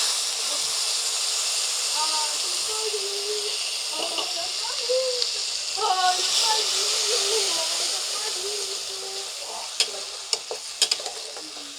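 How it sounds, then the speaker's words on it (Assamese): Spice paste with turmeric and whole cumin fries in a pan for a tel koi dish, making a continuous close sizzle with light stirring scrapes and a few sharp clinks near the end, and a voice speaks briefly in the middle. "মছলাখিনি মই 4 পৰা 5 মিনিট ভাজি লম।"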